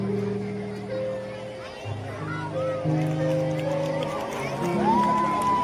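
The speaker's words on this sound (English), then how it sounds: "give them a huge round of applause" A school crowd at an Independence Day celebration cheers and claps for the house team, a continuous murmur of voices and applause with children shouting over it.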